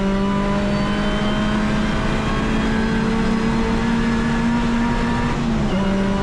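A race car engine at Oulton Park circuit drones loud and steady as it accelerates, pitch climbing slowly before a brief dip near the end, heard close with no talk.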